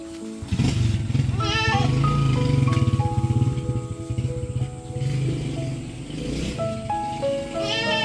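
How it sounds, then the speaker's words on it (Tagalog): A goat bleats loudly and repeatedly up close, its wavering cries coming in several bursts over a rumbling engine-like background. "Kawawa naman si Kambing."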